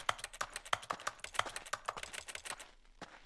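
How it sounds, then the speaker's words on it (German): Computer keyboard typing in The Stanley Parable video game: a fast, steady stream of crisp key clicks, close and clear, slowing to a few last taps at the end. "Man hört halt das Tastaturgeräusch."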